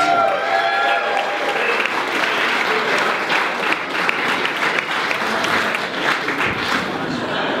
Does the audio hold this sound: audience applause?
yes